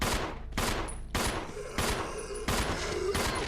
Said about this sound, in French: On leur tire 2-3 balles, hop, on revient.